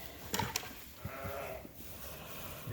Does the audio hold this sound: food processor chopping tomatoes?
no